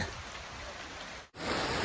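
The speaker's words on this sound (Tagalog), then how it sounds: "inabot na kami ng ulan" Steady rain hissing close by in rural farmland, briefly cut off for an instant before returning slightly louder.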